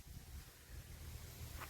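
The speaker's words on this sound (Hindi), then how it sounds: "बहुत ही तेज हवा चल रही है और बिल्कुल शीत है चारों तरफ।" A strong, cold wind blows outdoors, buffeting the microphone in a low, continuous rumble that is quiet and steady for the whole stretch.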